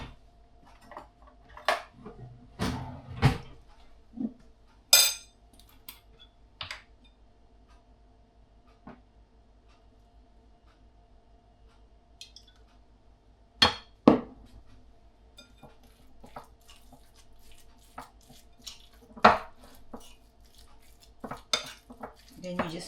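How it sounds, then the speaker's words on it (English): Soy sauce and barbecue marinade mixed with meat in a bowl, scattered sharp clinks and scrapes of utensil against bowl with quiet pauses between. "Then you just mix it together"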